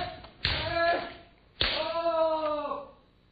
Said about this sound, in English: Make a body crash after a kote men strike and instantly strike the do while stepping